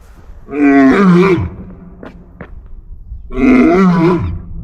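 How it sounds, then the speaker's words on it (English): A lion roaring at a Korean zoo, two long, loud, deep groaning roars close by, separated by a short pause with faint background noise. "the lion is talking to me."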